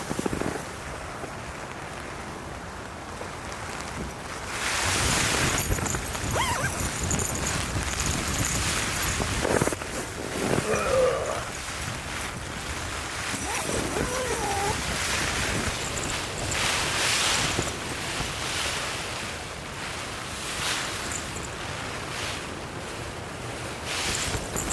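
Roaring wind and rushing water of a severe cyclonic storm around a tent, a steady loud wash of storm noise with gusts and bursts of spray, rain lashing throughout.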